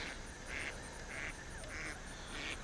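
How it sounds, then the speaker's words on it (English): A duck quacks outdoors beside water where someone is bank fishing, giving four evenly spaced nasal quacks over a steady hiss of background noise. "Sorry about the duck noise."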